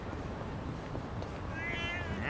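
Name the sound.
cat meowing loudly in video game Yakuza: Like a Dragon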